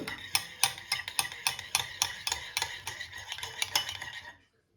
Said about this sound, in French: On remue un peu.